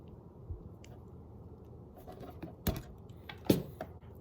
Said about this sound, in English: So I'm gonna cut back the sheath.